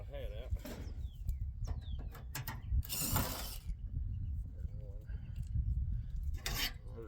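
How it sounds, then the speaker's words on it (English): Screws being backed out while an air conditioning unit is taken apart, giving faint ratcheting clicks and metallic rubbing in short bursts close by, with pauses between turns. "Basically just take all the screws out."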